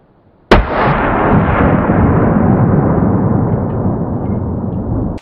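A single loud gunshot from a GBW Legend Pro cartridge test-fired into a ballistic gel block cracks sharply after a moment of quiet, then rolls into a long, broad, slowly fading rumble.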